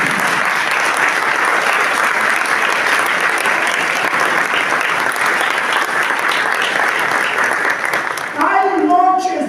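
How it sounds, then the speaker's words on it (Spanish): Church congregation clapping loudly and steadily for several seconds as a dense wash of applause, fading near the end as a voice begins to speak. "Denle aplauso fuerte."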